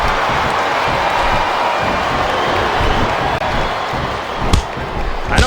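A dense, steady roar of an arena crowd cheering at a WWE SmackDown vs Raw 2007 match, continuous throughout with a couple of slam-like thumps near the end and commentary voices underneath.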